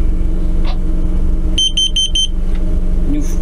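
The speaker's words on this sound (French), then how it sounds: "À 230 ppm, donc le détecteur vient de se déclencher." A carbon monoxide detector sounds its alarm at 230 ppm, giving a quick series of five sharp, piercing beeps in mid-clip over a loud, steady low hum, with no voices.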